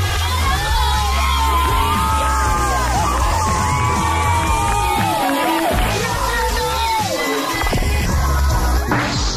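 A crowd of students at a graduation ceremony cheers, whoops and shouts continuously, loud and dense, with scattered bangs and excited voices throughout.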